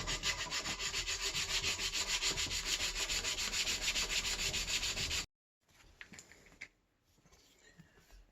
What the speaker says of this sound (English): I got the bottom squared off, sanded